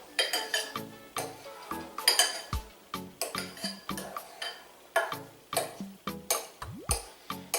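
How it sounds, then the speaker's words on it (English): Butter knife chopping avocados into chunks, a quick irregular series of sharp clicks and taps against a plate or bowl, close and fairly loud with brief gaps between strokes. "The easiest thing to do is you take a butter knife and you just kind of cut it up."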